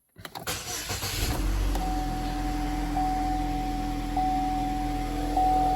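A 2006 Chevy HHR cranks and starts after an alternator replacement, then settles into a steady idle with a faint electrical whine, close and alone.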